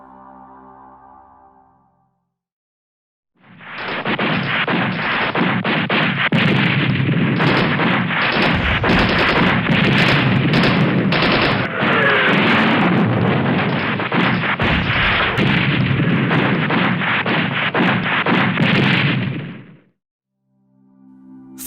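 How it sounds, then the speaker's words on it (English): Loud, continuous roar of heavy gunfire and booming anti-aircraft guns over a city at night that rises suddenly, keeps going for about fifteen seconds, then cuts off. "a volley of gunfire shook the city. Anti-aircraft guns erupted from the ground"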